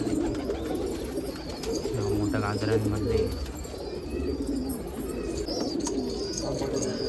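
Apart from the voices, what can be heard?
pigeons cooing at a Nashik pigeon festival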